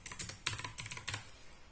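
A phone number is keyed in on a computer keyboard, with a quick run of close, crisp key clicks in irregular bursts and no talking.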